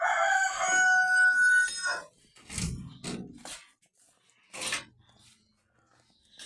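Native chickens and chicks call near a farmyard, with a loud stretched crowing or squawking call at the start, then several short bursts of clucking and cheeping separated by quiet gaps.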